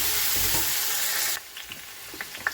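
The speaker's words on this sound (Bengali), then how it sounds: "আলুটা ভাজা ভাজা হয়ে গেছে" Potato pieces frying in hot oil with whole garam masala, cumin and bay leaf, a loud steady sizzle that drops sharply partway through, followed by softer crackling and a few light spatters.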